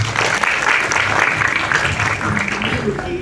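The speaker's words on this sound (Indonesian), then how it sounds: "Tepuk tangan untuk mereka." Steady audience applause fills a press conference hall for a film showcase, a dense, continuous clatter of many hands with voices faintly mixed in beneath.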